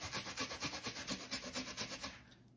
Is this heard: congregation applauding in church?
no